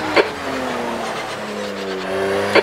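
Front-left tyre locking under braking into a chicane in the Project Cars 2 racing game, two short sharp squeal bursts at start and end over a steady engine drone with a falling pitch.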